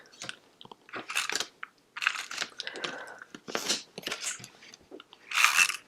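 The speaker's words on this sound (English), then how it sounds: "I'm using my AdTech tape runner today." An AdTech double-sided tape runner laying adhesive on paper for a craft project, close crackly bursts of tape rolling out in short irregular strokes with brief gaps between them.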